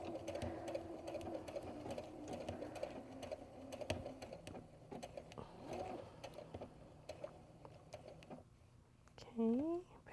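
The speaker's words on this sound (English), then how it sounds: "just depending on how comfortable you are with your machine, you can move along at any rate that you want to go" A sewing machine stitches an appliqué, a steady fast mechanical whir-and-tick running close for most of the time, pausing briefly near the end before a short rising whine.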